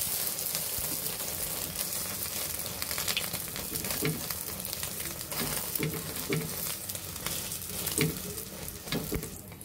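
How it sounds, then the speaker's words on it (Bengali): An egg sizzles loudly in hot oil in a frying pan after being flipped, a dense continuous crackle with spattering pops throughout. "আমাদের ডিমটি ভাজা হয়ে গিয়েছে।"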